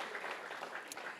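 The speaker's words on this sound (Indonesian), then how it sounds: "Tepuk tangan dong Bapak Ibu Saudara." A church congregation at a Christmas service gives brief, soft applause, a steady patter of many hands heard fairly faintly for about a second.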